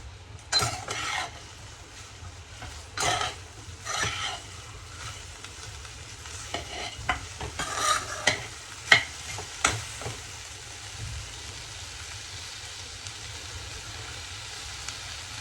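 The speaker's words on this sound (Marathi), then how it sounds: "तेल टाकून आपण तिला फ्राय करून घेणार आहोत" Okra (bhindi) frying in oil gives a steady, close sizzle, broken by scattered clinks and scrapes of stirring that cluster in the middle of the clip; no one speaks.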